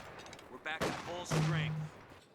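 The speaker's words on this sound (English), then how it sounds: "2 mortars for R4zi" Mortar and gunfire from a Company of Heroes 2 multiplayer match: a few sharp, booming shots and blasts with ringing tails, loud and close over game background noise.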